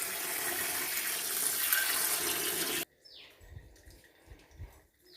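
Tap water gushes steadily as broken crab pieces for a crab curry are rinsed clean in a kitchen. The rush cuts off abruptly partway through, leaving quieter, scattered handling noises afterward.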